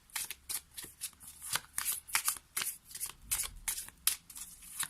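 An oracle card deck is shuffled by hand close up, a steady run of crisp riffling and flapping bursts with short pauses between them and no speech.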